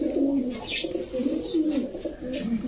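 Pigeons coo in soft, repeated throaty rolls close by, with faint higher chirps dotted between the calls and no talking.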